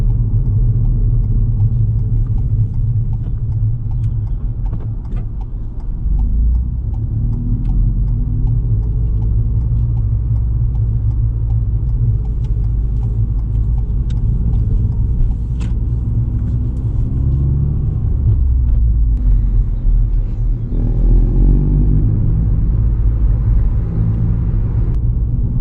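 Learner's car driving on a road during a mock driving test, a steady low engine and tyre rumble heard from inside the cabin, with small shifts in pitch as speed changes and no talk.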